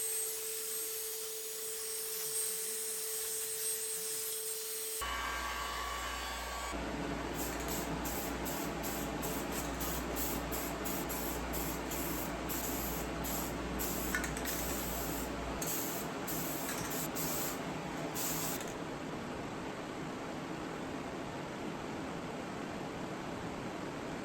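Spray painting parts of a 2007 Kawasaki KX250 two-stroke motorcycle: a steady close aerosol hiss starts after a quiet moment and runs on, broken by a string of short, rhythmic spray bursts.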